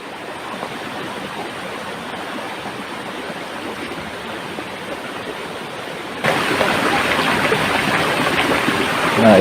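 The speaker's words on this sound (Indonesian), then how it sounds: "Lokasinya ada di sungai kecil," A small river in Bogor flows steadily with a dense, even rush of water that stays constant, then grows noticeably louder and brighter partway through, with no voices.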